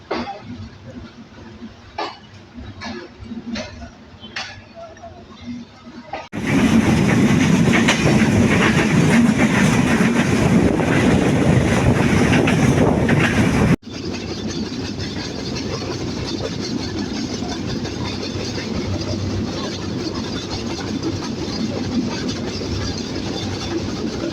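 A train rumbles steadily along the rails as it enters Parbatipur railway station in Bangladesh, loud and continuous, with faint clicks early on before the noise swells and holds.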